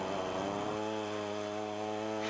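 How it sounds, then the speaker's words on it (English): A long-bladed chainsaw cuts into the ice of a frozen pond in Alaska, its engine droning loud and steady with a sharp shift in pitch early on as the blade bites, running alone without voices. "It takes special chainsaws with really long blades to cut into the frozen pond."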